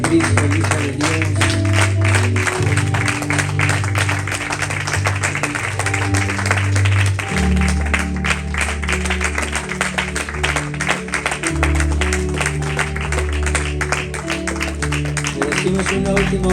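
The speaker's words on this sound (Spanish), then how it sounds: "Mientras se extiende ese aplauso, le decimos digno" A church congregation applauds steadily over loud worship music with a deep bass line, the clapping continuing evenly for the whole stretch.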